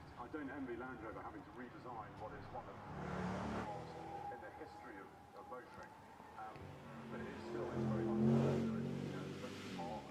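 Race car powering up the Goodwood hillclimb past the historic wall section, engine note rising and swelling loud as it nears, with a commentator speaking throughout.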